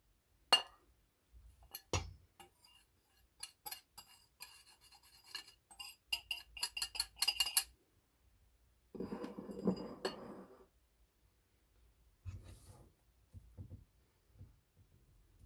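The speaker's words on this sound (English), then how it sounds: "I'm going to mix this all together." Banana nut bread batter stirred in a bowl, with close, scattered clinks and scrapes of a utensil against the sides, then a denser burst of wet mixing and a few soft knocks at the end.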